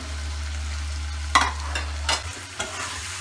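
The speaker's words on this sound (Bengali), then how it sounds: "এরপরে পটলগুলা তরকারির মধ্যে দিয়ে দেবেন" Pointed gourd (potol) pieces stirred into a sizzling curry in a pan, for an egg and potol dish: a soft, steady fry hiss broken by a few sharp scraping stir strokes, close by with no talking.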